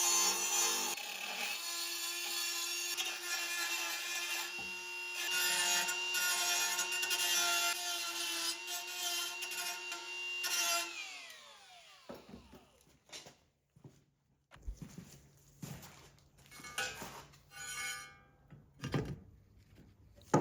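Die grinder shaping a part for an Africa Twin motorcycle: a steady high-pitched whine for about ten seconds that spins down, followed by softer scraping, tapping and handling noises.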